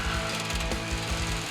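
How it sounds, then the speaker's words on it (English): Power saw or cutting tool slicing through a truck frame in a garage, a continuous loud grinding, rattling mechanical drone with steady throbbing pulses throughout, no talking. "and we're gonna make a cut in the frame."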